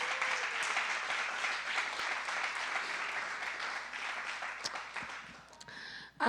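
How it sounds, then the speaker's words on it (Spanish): A church congregation applauds in sustained, dense clapping that fills the space evenly before thinning out at the end. "Dale un fuerte aplauso a Dios."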